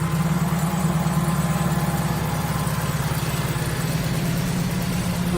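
An engine runs steadily after starting, a loud close rumble with a fast even pulse holding through to the end, with no speech over it.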